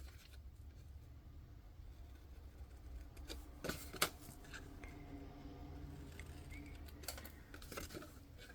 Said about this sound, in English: And we are simply going to cut those squares out.